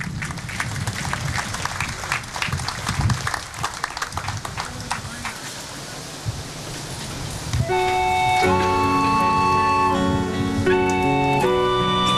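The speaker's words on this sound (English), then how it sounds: "let's give a nice round of applause" A crowd claps steadily for several seconds with some voices mixed in, welcoming an intermediate school choir at a Memorial Day program, then sustained musical chords take over as the clapping fades.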